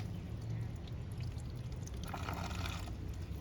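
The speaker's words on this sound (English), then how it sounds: "I'm going to take a little bit of regular water and hose it off like this." Plain tap water poured over a car battery to rinse off corrosive acid buildup, a steady close splashing wash that grows louder and brighter toward the end, with no speech.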